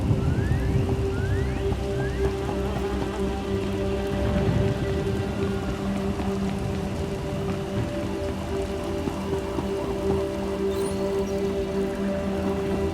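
Steady rainstorm in Star Wars: The Old Republic, a continuous hiss of rain on surfaces with scattered drips and a low ambient hum, holding evenly throughout with no talking.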